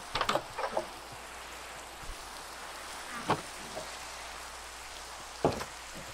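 Rain in the video game Minecraft, played in virtual reality through Vivecraft, hisses as a steady, even wash throughout, broken by a few sharp knocks and thuds at intervals.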